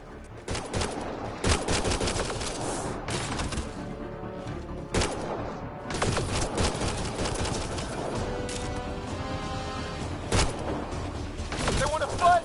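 Gunfire fills a firefight in the Mass Effect: Andromeda video game: sharp repeated shots and rapid bursts crack over continuous battle noise throughout, with voices calling out in between.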